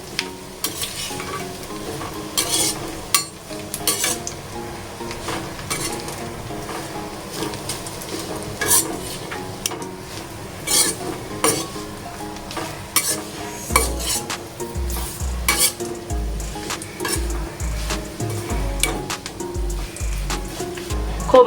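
Coconut is roasted in a pan over a low gas flame, with continuous stirring that gives a steady run of scraping and clinking spoon-on-metal strokes over a faint sizzle, close by.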